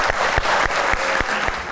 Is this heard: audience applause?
yes